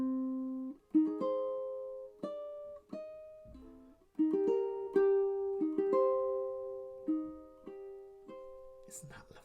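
Fingerstyle ukulele phrase from a song, played slowly as single plucked notes and partial chords ringing one after another, clear and close with no talking.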